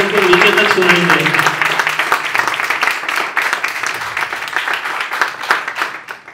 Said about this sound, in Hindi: हम उनके लिए जोरदार तालियां बजाते हैं ताकि उनको नीचे तक सुनाई दे